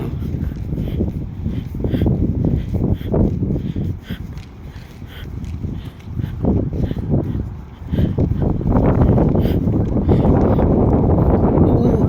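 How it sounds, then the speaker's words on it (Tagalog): Strong, cold wind in Tagaytay buffets the microphone in heavy, uneven rumbling gusts that swell and fade, loud and close throughout. "Grabe yung hangin."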